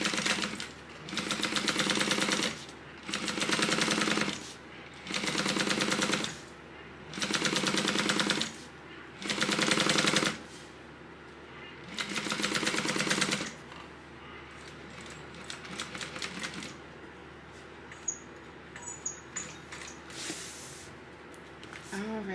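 Sewing machine running in bursts while stitching a parallel line on a tote bag: six or seven even rattling runs separated by short pauses, then quieter handling sounds as the bobbin runs out.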